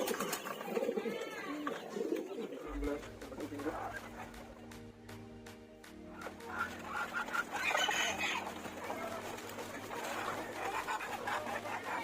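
Lahori pigeons being fed on a farm, soft cooing and clucking from nearby birds mixed with rustling and other poultry sounds, steady throughout with a voice talking at times.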